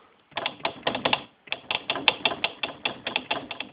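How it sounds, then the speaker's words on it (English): Mechanical knocking from the keys of a Yamaha CP33 digital piano, a rapid run of a dozen or more sharp, close taps in two bursts separated by a brief pause, with no voices. "if you play the keys either side, there's a knocking sound"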